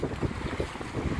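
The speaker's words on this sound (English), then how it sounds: "it's windy, quite windy" Strong wind blowing outdoors on an early evening walk, a steady low rumbling buffet against the microphone with gusty swells and no voices.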